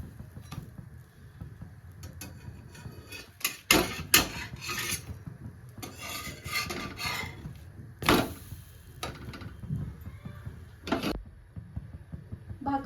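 A spatula scraping and turning bhakri flatbread on a hot griddle in a Marathi home kitchen, a series of close raspy scrapes and sharp taps with quieter gaps of faint sizzling between them.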